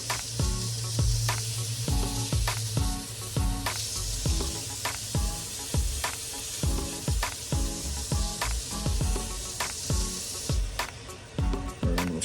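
Abrasive sanding a spalted wood vessel on a lathe gives a steady hissing scrape with regular rhythmic pulses repeating under a constant whir, close and fairly loud.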